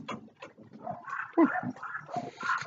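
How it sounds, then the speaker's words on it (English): Dogs barking and whimpering outdoors from neighboring yards, a run of irregular yaps and whines at moderate distance, with some voice mixed in. "Neighbor's dogs are out."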